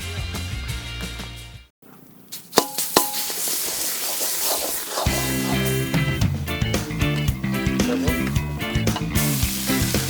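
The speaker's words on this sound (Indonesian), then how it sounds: "Kalau semua bumbu sudah halus, langsung aja ditumis" Ground spice paste sautéing in a pan for a traditional Sumedang dish, a steady bright sizzle with stirring, largely buried under loud music apart from a brief quiet gap near the start.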